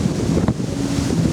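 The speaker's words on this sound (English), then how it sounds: "It's windy," Strong wind buffets the microphone outdoors in a forest, a steady loud roar throughout with one brief knock in the middle.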